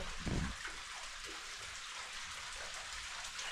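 Steady broadband rush of water falling into a deep pit in Oman, a continuous outdoor roar with one brief low thump near the start.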